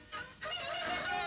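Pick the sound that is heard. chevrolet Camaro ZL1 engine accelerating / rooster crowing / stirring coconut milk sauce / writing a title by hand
rooster crowing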